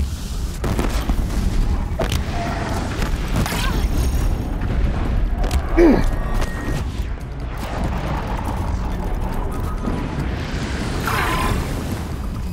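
A bomb detonates in the Horizon Zero Dawn game, a heavy boom amid loud continuous rumbling game ambience, with a few sharp impacts scattered through and brief voice moments.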